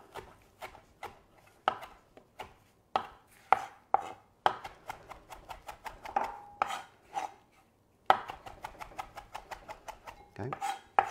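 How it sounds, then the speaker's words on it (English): Fresh parsley chopped with a knife on a cutting board in a home kitchen: rapid, steady knocks of the blade against the board, close and crisp, continuing in quick bursts with a brief pause in the middle. "this one, parsley, you can cut up and it won't damage it"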